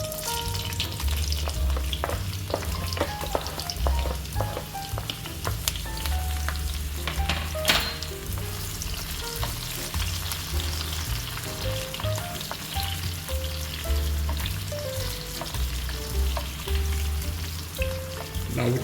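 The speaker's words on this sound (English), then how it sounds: "Then I'm gonna fry up my seasonings." Seasonings of Scotch bonnet pepper, scallion and bell pepper fry in hot oil in a skillet, a steady close crackling sizzle with scattered pops and a low background hum running throughout, no talking.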